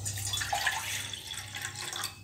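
Water pours steadily into a pot for a couple of seconds, a soft splashing and trickling close by with no talking.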